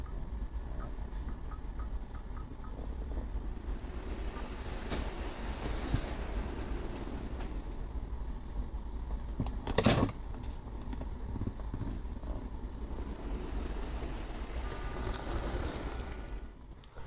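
An HO scale model locomotive, a Rivarossi Union Pacific 4-8-4 FEF, runs along track with a steady low motor whir and rolling rumble, close and continuous, with a faint clicking and a brief louder rattle partway through.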